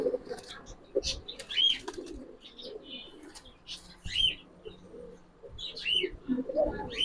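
Pigeons at a Bengali market stall selling Giribaz pigeons coo and chirp in repeated soft calls, with occasional wing flaps, under faint background chatter.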